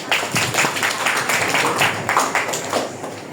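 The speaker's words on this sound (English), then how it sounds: "Clap, clap." Hands clapping in a classroom during an English vocabulary lesson, a dense run of quick claps at moderate loudness, like a group applauding together for a few seconds.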